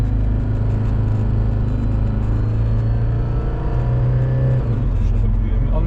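A Mercedes diesel car drives with a steady low engine rumble close by. The engine pitch shifts slightly near the end, and the cabin drone holds constant throughout.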